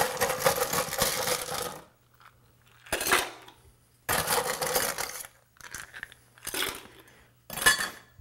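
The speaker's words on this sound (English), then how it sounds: "since this has egg white in it, that means we need to shake it for a while" Bursts of vigorous shaking from a cocktail shaker mixing an Ocean Shore cocktail with egg white, loud rattling rhythms lasting one to two seconds, separated by short pauses, repeated several times without talk.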